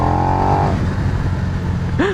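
A 2020 KTM Super Duke R naked motorcycle revs hard, then drops pitch as it quickshifts up into third, with steady wind rush and engine drone throughout and a brief whine at the end.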